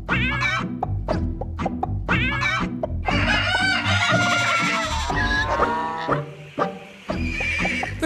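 Chickens on a large surveillance-monitored farm with 20,000 birds cluck and squawk busily, overlapping calls and sharp cries filling the space at close range without talking.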